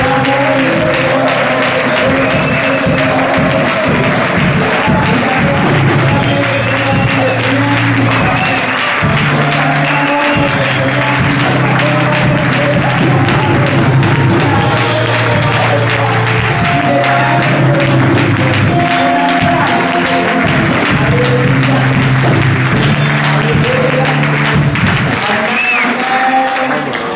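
A church congregation claps in loud, sustained applause of acclamation, with dense continuous clapping, cheers and music running underneath throughout.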